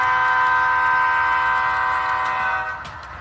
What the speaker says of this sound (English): Just a short coal train on the inside main there.